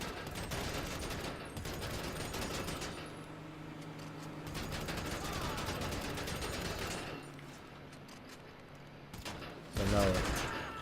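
Incendiary rounds fired at a vehicle in GTA 5, heard as sustained rapid automatic gunfire that runs almost continuously, then breaks off and resumes in a louder burst near the end.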